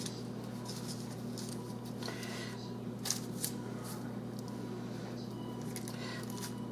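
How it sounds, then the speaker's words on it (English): Rolled sticky bun dough being unrolled by hand on a kitchen counter, soft close rustling and sticky peeling sounds with a few light taps, quiet over a steady electrical hum, no speech. "I'm going to have to unroll it."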